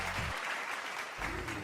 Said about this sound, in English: That calls for applause.